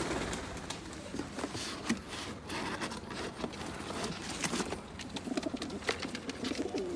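Pigeons coo softly amid a busy, rustling background with scattered clicks and scrapes, continuing steadily throughout.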